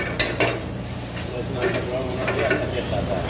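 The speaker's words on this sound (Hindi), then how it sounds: "इसको हल्का सा भूनेंगे धीमी आंच में" Steady sizzling of chopped garlic and cumin frying in oil in a hot pan over low heat, with a few stirring clinks and scrapes, no talking.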